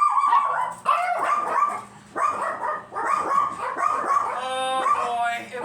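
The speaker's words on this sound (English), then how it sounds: "it wouldn't be a show without the girls barking" Several dogs bark excitedly in repeated loud bursts, with yips and whining mixed in, close by and continuous for several seconds.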